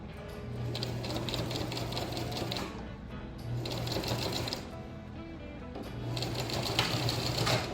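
A sewing machine stitches a continuous placket in three runs of steady mechanical whirring and needle clatter, pausing briefly between bursts, heard close and fairly quiet with no talking.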